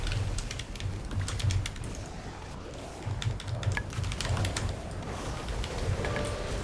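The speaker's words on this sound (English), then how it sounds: "Listening to the faint click-clacks of the keyboard" Faint, rapid computer keyboard click-clacks from someone playing World of Warcraft, an irregular stream of small taps over a low steady background hum.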